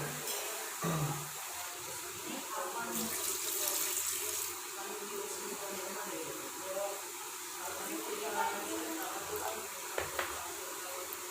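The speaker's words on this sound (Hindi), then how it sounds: "तो सबसे पहले प्रेशर कुकर में हम तकरीबन 750 ml पानी शामिल करेंगे।" Water runs from a tap into a pressure cooker, a steady faint pouring hiss lasting several seconds amid kitchen clatter and a brief voice.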